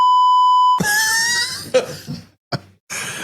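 A steady electronic censor beep tone holds for under a second, then cuts to voices talking in a marsh setting, with a cough and brief bursts of speech after.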